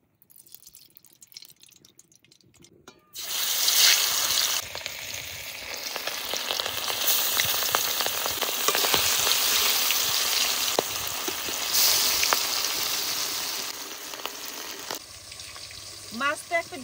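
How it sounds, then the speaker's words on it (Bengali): Silver carp pieces coated in turmeric and salt fry in mustard oil, a loud, steady sizzle with sputtering crackles that starts abruptly after a few quiet seconds and continues to the end. "মাছটা একটু ভাজা হয়ে গেছে"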